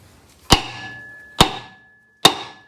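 Three sharp, ringing metallic blows of a hammer pounding on an antique car's rear axle, spaced about a second apart, each strike decaying with a bright resonant ring in a quiet setting.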